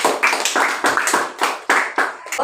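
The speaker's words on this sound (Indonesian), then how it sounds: "Oke, tepuk tangan." A small group of students applauds in a classroom, with steady, close, fairly loud rhythmic hand claps running without pause.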